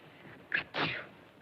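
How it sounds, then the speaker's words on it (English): A young girl gives a single quick sneeze in a 1936 black-and-white film scene: a short two-part burst, close and clear, with no talk over it. "My goodness, you sneezed."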